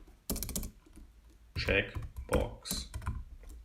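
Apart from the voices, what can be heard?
typing on a computer keyboard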